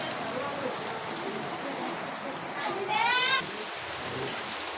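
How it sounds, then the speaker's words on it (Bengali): Heavy rain falls in a steady dense hiss throughout, with a brief rising chirping sound near the middle and a voice faintly present under the downpour. "এখানে বৃষ্টি হচ্ছে, খুবই বৃষ্টি।"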